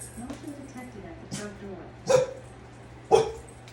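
A household dog barks a few sharp, separate times at the front door, the barks moderately close and spaced about a second apart over a low background hum.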